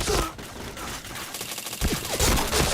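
Gunfire rings out in the Point Blank shooter game as dense, rapid overlapping bursts and shots, loud and close throughout with brief dips between volleys.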